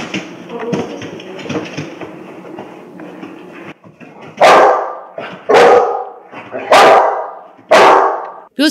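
A young search-and-rescue dog barks four times in a steady rhythm, loud and close. Faint voices and indistinct activity come before the barks.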